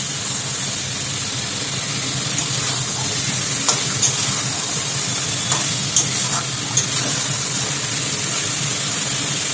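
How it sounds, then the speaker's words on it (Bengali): Steady frying sizzle of pabda fish fills the air while a utensil occasionally scrapes and clinks against the pan, with no one speaking. "দিয়ে খুব সাবধানে মাছগুলোকে নাড়বো।"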